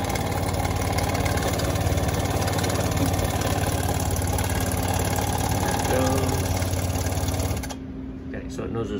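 A soft serve machine's pump runs with a steady, close mechanical hum and rapid rhythmic chatter, then cuts out automatically near the end once full pressure is reached, as a voice talks over it.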